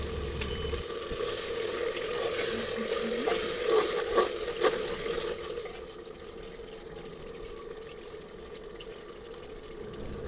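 Mutton pieces, first warmed in oil with turmeric and salt, are added to onions in a hot pan, giving a steady close sizzle and frying hiss with a few scraping clinks, easing slightly in the second half.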